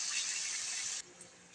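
Water poured into a hot pan holding fried chicken and mushrooms gives a loud steady hiss and sizzle for about a second. The hiss then drops off abruptly to a quieter simmer.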